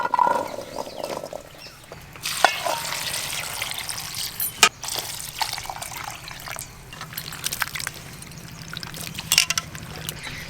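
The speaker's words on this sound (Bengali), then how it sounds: "এবার জল দিয়ে 2-3 বার করে ধুয়ে নেব।" Grapes being washed in water, with splashing, sloshing and trickling up close plus knocks of fruit and a container, uneven and busy throughout.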